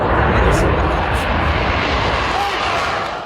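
Turkish KAAN fighter jet flying overhead, a loud, steady broadband engine roar that holds throughout and fades slightly at the end.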